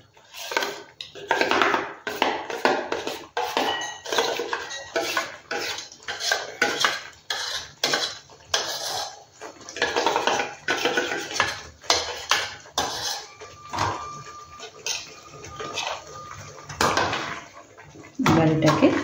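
A spoon mixes mango pulp in a pot, with a long run of close, irregular metal scrapes, clinks and taps as it works the pulp around.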